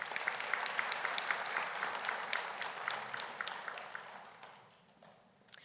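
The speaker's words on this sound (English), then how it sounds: "Please give Pamela a round of applause." A high school ceremony crowd claps for a student receiving a biliteracy award: a full round of applause with crisp individual claps standing out, holding steady before tapering away in the last second.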